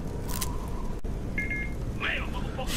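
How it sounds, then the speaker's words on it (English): A phone gives two short electronic beeps a moment apart, heard over steady background sound from a Skyrim game session. "Shut up, phone!"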